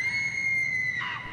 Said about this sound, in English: my heightened hearing picked up a scream from a lady